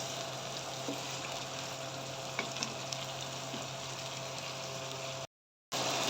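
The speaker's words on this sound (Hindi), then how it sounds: "लहसुन अदरक का पेस्ट अच्छे से फ्राई हो चुका है।" Garlic ginger paste fries in a karahi with a steady, soft sizzle and a few faint stirring clicks, continuous and moderately quiet, cut off by a brief gap of silence near the end.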